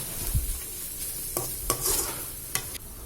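Raw mango and rice mixture being stirred and sautéed in a hot pan, with a steady soft sizzle and several sharp scraping spoon strokes against the pan; no talking.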